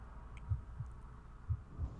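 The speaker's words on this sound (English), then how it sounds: "the heartbeat sound" Heartbeat sound effect from the horror video game Adam - Lost Memories: faint, low thumps spaced unevenly, about four beats across a quiet ambient hum, with no talking.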